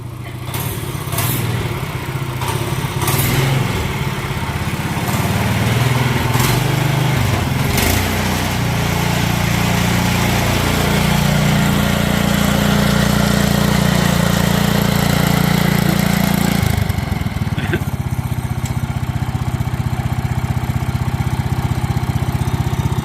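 John Deere 110 riding mower fitted with a 212cc engine, backing out of a garage: a loud, steady engine drone close by that holds for the whole stretch, with a brief shift in tone partway through.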